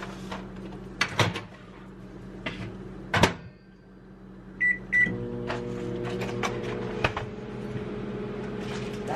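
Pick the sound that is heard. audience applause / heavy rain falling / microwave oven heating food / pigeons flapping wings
microwave oven heating food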